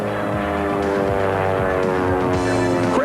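The Double Take, an unusual airplane with landing gear on top and bottom, flying at the 1993 Oshkosh airshow: a loud, steady propeller drone with a rich harmonic hum holding throughout, close by and alone.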